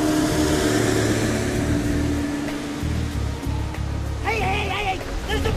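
Heavy rain lashes down at sea during a fast rescue boat search for a life raft, a dense, loud hiss that continues as voices shout near the end.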